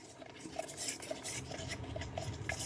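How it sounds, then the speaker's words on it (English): A small tool stirs a homemade deodorant mixture in a container, producing quick soft clinks and scraping taps in a light, uneven rhythm, close but faint, with no voices. "I got me a little tool to stir it up."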